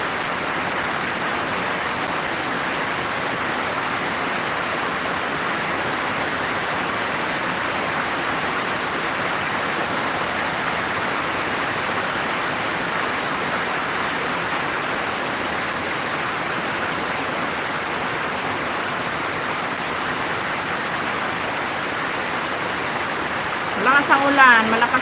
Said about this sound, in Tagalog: Malakas ang ulan, malakas na yung ulan.